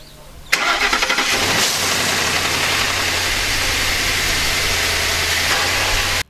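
A truck engine, freshly cleaned with degreaser, cranks and catches within a second, then settles into a steady, loud idle that runs on close by.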